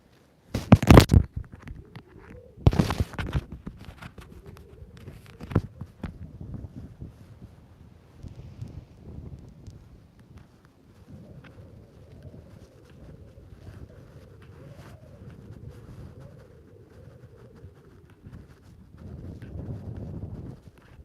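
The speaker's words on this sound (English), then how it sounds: "the wind's picking up and it's going to be tougher to do a broadcast" Wind picking up outdoors, low rumbling gusts buffeting the microphone for the whole stretch, with two sharp loud knocks early on and no one speaking.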